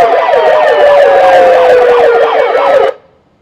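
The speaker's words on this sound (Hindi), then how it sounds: "भाई काफ़ी ज़बरदस्त हूटर है।" A loud aftermarket hooter siren fitted to a modified Maruti Swift wails in a fast, warbling up-and-down sweep for about three seconds, close by, then cuts off abruptly into near silence.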